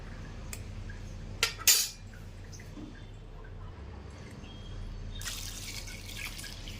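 Water trickles and drips into a metal pot of vegetables for sambar, with a couple of sharp clinks early on and a gushing pour near the end.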